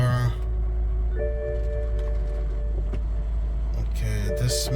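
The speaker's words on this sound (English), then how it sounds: "Start the car." A 2008 BMW X5 starts and its engine settles into a steady low idle rumble, heard up close with faint clicks and some background noise.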